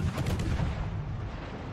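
Naval 100mm Akizuki guns of a Japanese Tier 7 destroyer fire in a World of Warships battle, a dense, continuous rumble of booming gunfire with heavy low-end thuds, loud and close, with no talk over it.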